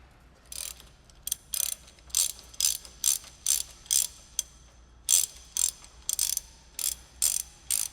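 A ratchet wrench with a 15 mm socket runs nuts down on S197 anti-roll hardware, sharp close clicking bursts repeating in short rhythmic pulls with brief gaps between them.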